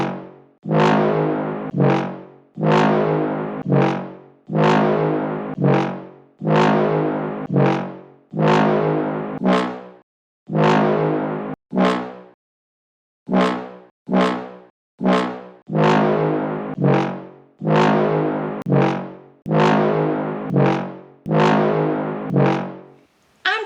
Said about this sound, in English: For worms, she heard this sound.